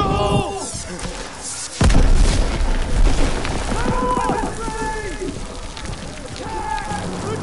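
An explosive detonates in a video game with a sudden heavy boom that rolls into a long low rumble, mixed with other game noise and voices.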